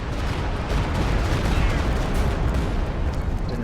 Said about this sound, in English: Stuka barrage coming in, provided vision by artillery flares.